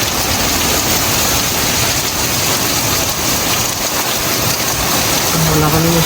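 Heavy typhoon rain in Canada pours down in a loud, dense, unbroken roar that stays constant from start to finish, close and enveloping.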